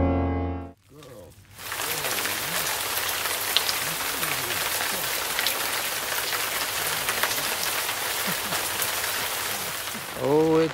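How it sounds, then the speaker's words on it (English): Steady, dense rain pours down for several seconds, a broad hiss drumming on surfaces, with brief voices at the very start and end. "Oh, it's raining pretty bad."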